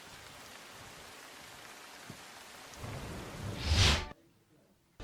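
Heavy rain falling in the Varachha area of Surat, a steady wash of rain noise that swells into a brief louder rush near the end before dropping away abruptly.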